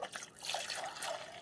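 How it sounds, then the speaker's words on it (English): Water trickles and splashes as it is poured into the reservoir of an Amazon Basics 5-cup drip coffee maker, a fairly soft, close pour lasting a moment. "We're going to put the water right here."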